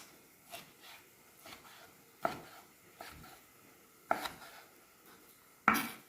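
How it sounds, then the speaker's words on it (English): A knife thinly chops beef on a cutting board, sharp irregular thuds and clicks spaced apart, close and clear with quiet gaps between and no talking. "So now you will chop your beef."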